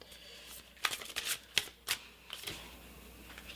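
Tarot cards are drawn and slid from the deck in a series of crisp, close swipes and flicks, four or five quick bursts spread over a few seconds, with no talking.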